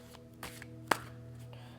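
A deck of cards being shuffled: soft riffling bursts and a sharp snap of cards, quiet and close, with no voices.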